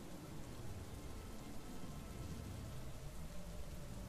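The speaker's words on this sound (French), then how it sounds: "La pluie continue, vous faut un abri." Steady rain falling as background ambience for a tabletop role-playing game session, a constant soft broadband hiss with no break across the stretch and no voices.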